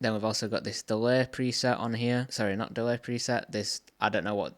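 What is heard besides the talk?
No everyday noises stand out.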